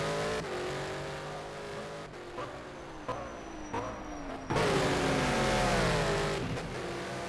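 A GT2 race car engine in a racing video game endurance race at Bahrain roars continuously, revving and shifting with rising and falling pitch, loud and steady with a stronger surge partway through.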